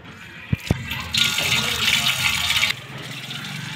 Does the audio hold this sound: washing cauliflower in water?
yes